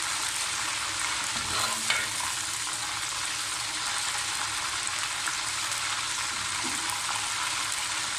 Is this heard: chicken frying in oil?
yes